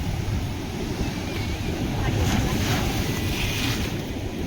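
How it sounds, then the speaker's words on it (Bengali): Sea waves surge up the beach and wash into a seaside resort at Mandarmani, making a constant loud rush of surf under heavy wind buffeting the microphone. "কোথায় জল চলে আসছে দেখো। পুরো রিসর্টের ভেতরে জল ঢুকে যাচ্ছে।"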